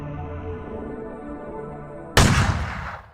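A single loud gunshot blast in the horror video game Crow Country, fired during a boss fight. It cracks sharply after a stretch of quiet ambient game tones and then rings out briefly before fading.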